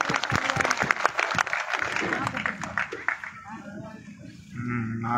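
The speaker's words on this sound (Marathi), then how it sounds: "सगळ्यांना जोरदार टाळ्या वाजवायच्या" Crowd applause at a political speech gathering: dense, steady clapping from a sizable audience, with a voice speaking over it and taking over toward the end.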